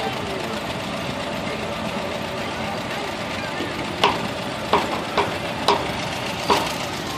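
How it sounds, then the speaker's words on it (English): A 1949 John Deere tractor engine chugs steadily through a parade, a continuous mid-pitched running drone with a few sharper knocks and clatters toward the end, heard amid outdoor crowd noise. "Next, we have a 1949 John Deere Meade."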